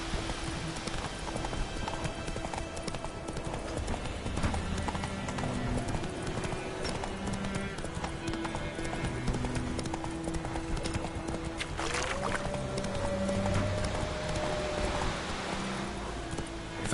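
Roach, the horse in The Witcher 3, gallops with a continuous rapid drumming of hooves, close and steady throughout, over soft ambient game sounds with a faint whinny-like tone midway.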